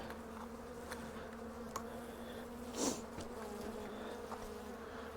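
Honeybees buzz around an opened hive on a mild February day during a mid-winter check, a steady low hum with individual bees droning close past the microphone, one passing louder near the middle.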